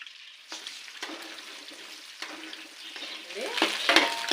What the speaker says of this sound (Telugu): మళ్ళీ పాత్ర పెట్టుకొని కొంచెం ఆయిల్ వేసుకుని ఎగ్స్ని ఫ్రై చేసుకుందామండి